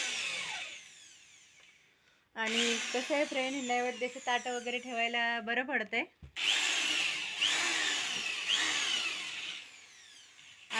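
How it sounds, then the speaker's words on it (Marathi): An electric drill whines through wood while wooden low stools are made at home, with someone talking in between and the tool's high buzzing bursts returning near and loud after a short pause. "बघा आता कसे ड्रिल चालवत आहे ते"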